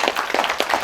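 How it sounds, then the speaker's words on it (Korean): At a special guest screening of the Korean film "Paran", a theatre audience claps. The applause is brief and lively, with quick, overlapping hand claps at close range and no talking. "박수 한번 주세요."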